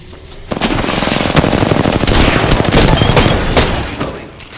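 Carbine with an extended magazine firing in a video game, a loud continuous burst of rapid automatic shots lasting about four seconds after a brief quiet start.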